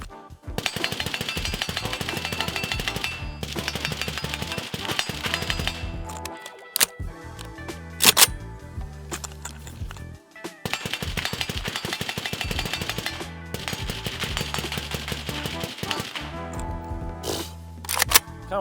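Suppressed rifle fire from an Arsenal SLR104UR fitted with a Resilient Putnik suppressor, outdoors: rapid strings of loud, sharp shots in several bursts with brief pauses and echoing cracks between them.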